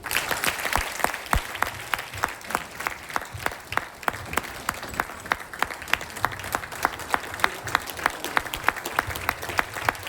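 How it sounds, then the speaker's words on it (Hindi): Steady applause from an audience after a speech at a wellness event, many hands clapping fast and continuously at moderate volume, with no voices on top. "एक बार जोरदार तालियां"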